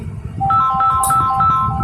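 A phone ringtone plays nearby, a short repeating electronic melody loud over a faint room background, with no talking.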